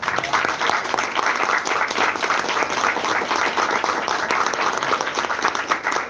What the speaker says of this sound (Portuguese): Então vamos aplaudir o papai pela revelação